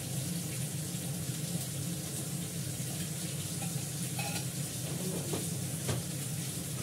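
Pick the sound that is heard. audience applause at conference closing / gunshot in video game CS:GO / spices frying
spices frying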